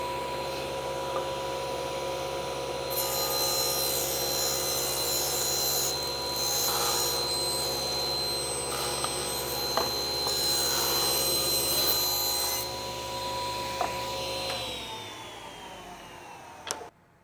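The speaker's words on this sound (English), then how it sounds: "when I was pushing the wood through the saw blade" A table saw runs steadily throughout, its whine rising to a harsher, louder pitch while wood is pushed through the blade, then the motor winds down at the end.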